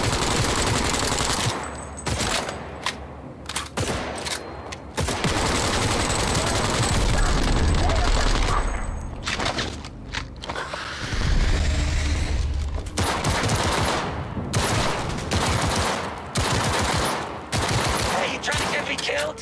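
Gunfire in the video game Cyberpunk 2077: long loud bursts of rapid shots with booming impacts, broken by brief pauses, dense and close throughout.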